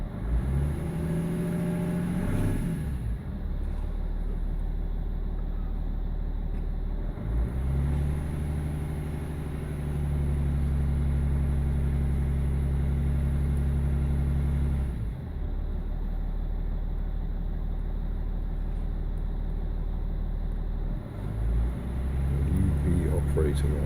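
A BMW E46 330d M Sport diesel engine with a bad injector runs with a steady low drone and a few swells of revving, loud and continuous without talk.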